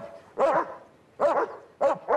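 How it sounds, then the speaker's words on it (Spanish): A dog barks three times in sharp, close bursts spaced about a second apart, with a quick double yap at the end and quiet gaps between. "Los perros ladran, señor."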